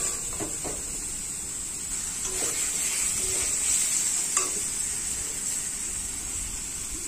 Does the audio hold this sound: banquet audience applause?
no